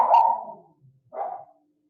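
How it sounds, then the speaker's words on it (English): Dogs barking indoors in the distance, two short muffled barks separated by a brief pause, with no other sound around them. "You guys might hear my dogs. They're probably just barking at somebody walking"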